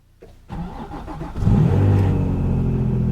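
A Nissan 350Z convertible cold-starts in snow at 20 degrees: the starter cranks briefly, the engine catches with a rising roar, then settles into a loud, steady idle close by.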